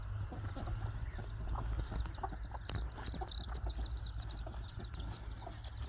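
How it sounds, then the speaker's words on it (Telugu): Native country chickens cluck continuously in a farm pen while scratching through scattered fodder and eating, a busy overlapping chorus of soft nearby clucks with faint scratching underneath. "కోళ్ళు దవ్వుకుంటూ తింటున్నాయి"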